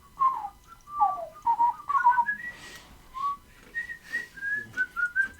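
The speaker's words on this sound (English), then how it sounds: "But we can go in whistling." A person whistles a short, wandering melody alone, the notes clear and fairly close in a quiet setting, with a few brief rising and falling phrases and small pauses between them.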